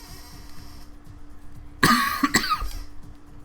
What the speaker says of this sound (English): Awesome. I love having a cough.